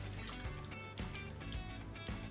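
Yogurt and milk mixture poured into wacky cake batter in a kitchen, a thick liquid glugging and plopping with a few soft dripping pulses, close and fairly quiet.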